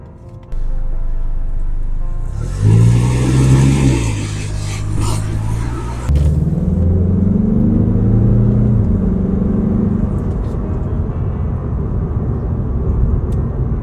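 A 2024 Mazda 3 Turbo hatchback engine revs loud and close, its tone rising and falling in two sustained pulls over a steady road rumble, with no talking.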